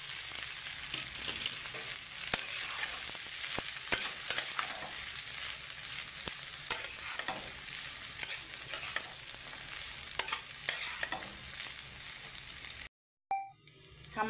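Flattened rice is stirred in a hot pan for poha with cashews and raisins, a steady close sizzle with scraping spoon strokes, ending in a brief cut and a beep.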